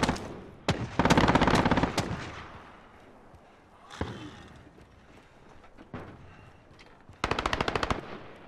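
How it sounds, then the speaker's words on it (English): An enemy sentry gun firing in Call of Duty: Modern Warfare, loud close bursts of rapid automatic gunfire, a long burst early and another near the end, with scattered single shots and impacts between. "Enemy sentry gun active."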